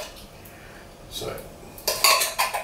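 A utensil scraping instant pumpkin cheesecake filling out of a bowl, with a few close, bright scrapes and clinks against the bowl that get louder toward the end.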